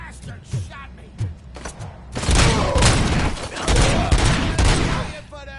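Robocop: Rogue City video game combat: a sustained burst of loud, dense gunfire erupts after a few scattered thumps, with voices talking beneath the shooting.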